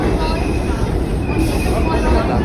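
A New York City subway train rumbles steadily at close range, a dense, unbroken roar with a faint metallic whine above it.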